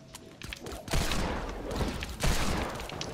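Tactical shotgun fire in a video game: a couple of loud, heavy blasts with roaring tails over a busy background of game effects, no talk.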